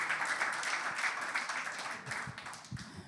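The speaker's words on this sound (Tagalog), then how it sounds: "Malakas sa palakpak para sa ating Diyos." A church congregation applauding at a Christmas-season service, with steady, close, dense clapping from a crowd that holds at an even level throughout and trails off slightly near the end.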